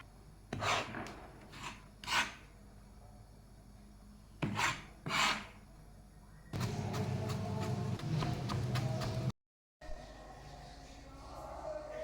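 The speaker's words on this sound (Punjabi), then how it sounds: "ਤਿੰਨ ਆਲੂ ਲੈ ਲੈ ਇਹਨਾਂ ਨੂੰ ਚੰਗੀ ਤਰ੍ਹਾਂ ਧੋ ਕੇ ਛਿੱਲ ਲਿਆ" Raw potatoes being peeled by hand in a home kitchen, giving short raspy scraping strokes in separate bursts, then a longer steady run of rubbing scrapes, all close and fairly quiet with no talking.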